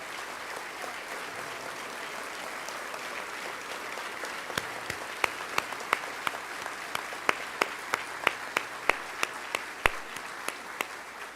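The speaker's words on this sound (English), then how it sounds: "will you please rise and allow us to give you the round of applause that you deserve?" A State of the City audience in Corpus Christi gives fire department members a sustained round of applause, a steady wash of clapping with sharper individual claps standing out as it goes on.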